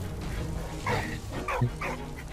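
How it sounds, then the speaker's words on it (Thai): Dog barking inside the video game Valiant Hearts: three short yapping barks in a quick sequence, moderately close, over a steady game background hum. "หมามันก็เห่าไป"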